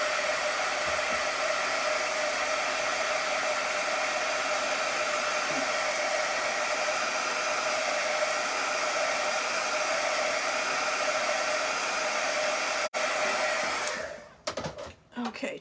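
A hair dryer blows to dry paint on a wooden welcome sign, a steady, loud, close whooshing roar that runs unbroken for about fourteen seconds before it cuts off amid a few handling knocks.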